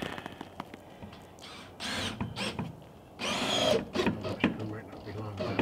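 A power drill drives screws through thick wooden molding into plywood, whirring in several short bursts of varying length, with people talking nearby between runs.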